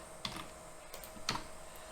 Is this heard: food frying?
no